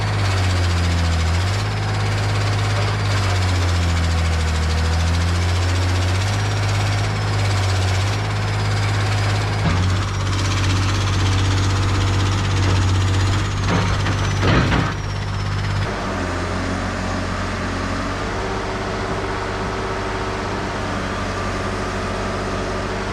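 Case 170B excavator with a Deutz diesel engine, worn and in need of a turbocharger and exhaust overhaul, drones steadily and loudly with a low rumble, shifting under load partway through and settling into a steadier idle.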